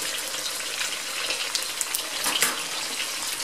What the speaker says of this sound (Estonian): Ja nüüd kui ühelt poolt on ära praadinud,